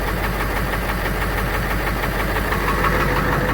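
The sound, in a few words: diesel engine idling with injector knock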